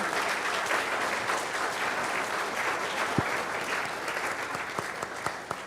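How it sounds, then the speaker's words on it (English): A dense, even round of audience applause fills the room at a school anniversary forum in Tobago, many hands clapping together with a few sharper knocks near the end. "And let's give them another round of applause."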